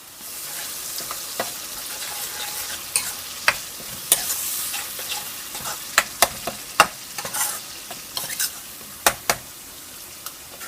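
Steady sizzling of food frying in oil, with scattered sharp pops and clicks of stirring throughout, fairly close.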